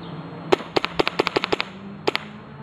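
Sharp handgun shots during draw-and-fire holster practice, a rapid string of about seven or eight cracks followed by a pause and two more quick shots, fairly close with a short ringing tail after each.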